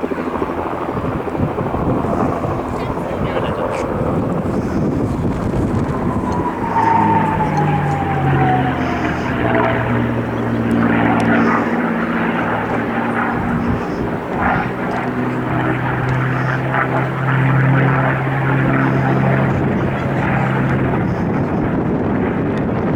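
A P-51 Mustang propeller fighter plane drones loudly overhead at the RAF Cosford Airshow 2022. Its engine note rises and shifts in pitch as it flies past, steady and continuous.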